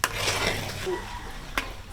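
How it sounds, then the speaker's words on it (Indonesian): Coconut milk cooking in a pot is stirred with a utensil, producing soft scraping and clinking metal knocks against the pot, close and moderately loud, with a sharper tap near the end. "Kita harus mengaduknya agar tidak pecah atau mendidih terlalu panas."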